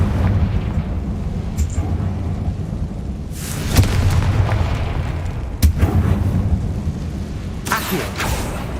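Confringo fire-blast spells exploding in the game Hogwarts Legacy: three sharp, loud blasts at intervals, each with a sudden crack and a short rumbling tail over a low, constant background rumble.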